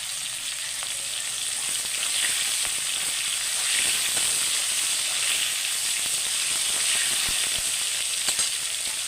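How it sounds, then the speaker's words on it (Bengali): Tomatoes fry in a pan for a katla fish head curry, a steady bright sizzle and crackle running evenly throughout with no talking. "একটু ভেজে নেবো।"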